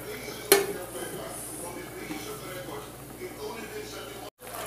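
A metal lid set down on a pot of bangus (milkfish) sinigang, one sharp clank near the start over a steady kitchen hum with low background murmur.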